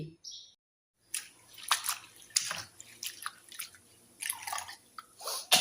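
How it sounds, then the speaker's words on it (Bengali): Brahmi greens being washed by hand in water, irregular splashes, swishes and drips in short bursts after a brief quiet start, close up with no talk. "শাকগুলো একটু ভালো করে ধুয়ে নিই"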